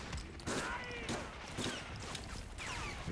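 Gunfire in the Medal of Honor Frontline war shooter game, repeated bursts of shots in irregular volleys over about three seconds, moderately loud, with some voices mixed in.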